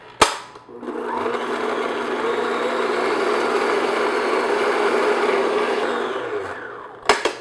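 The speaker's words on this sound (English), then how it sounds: "I'm going to beat this on medium-high speed until it gets nice, light, and fluffy." An electric mixer runs at medium-high speed beating butter and sugar batter for blueberry buckle, a steady loud whirring drone that starts and stops with brief clicks at each end.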